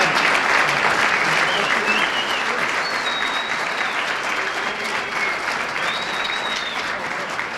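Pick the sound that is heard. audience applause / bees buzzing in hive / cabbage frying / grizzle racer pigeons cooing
audience applause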